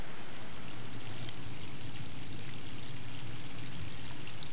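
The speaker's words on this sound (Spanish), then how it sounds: "Este es uno de los tantos escurrimientos que contaminan las playas de Tijuana." Untreated sewage runoff pouring and splashing steadily near the Tijuana beaches, a continuous rushing flow heard close and fairly loud with no talk.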